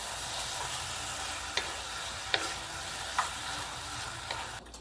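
Beef tips brown in a pan with a steady sizzle throughout, broken by a few sharp scrapes as they are stirred.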